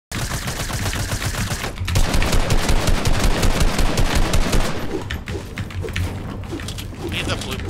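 Fortnite gunfire, rapid sustained bursts of automatic shots rattling close and loud, pausing briefly then resuming, with voices talking over the shooting.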